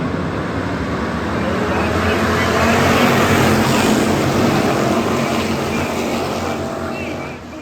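Hobby stock race cars roaring around Adams County Speedway during a feature race, a dense, loud, continuous engine roar of a full field swelling and fading slightly as the pack passes, with no clear talking.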